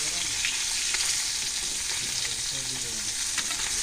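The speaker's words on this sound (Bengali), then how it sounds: "এইখানে আমি মাছ ভাজি বসাই দিচ্ছি" Fish sizzling steadily in hot oil in a pan, a dense continuous frying hiss with faint crackles throughout, close and fairly loud, no voices.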